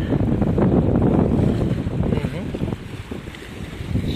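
Strong sea waves and gusting wind on a shore at six in the morning, a steady loud wash of surf with buffeting wind noise on the microphone, continuous throughout.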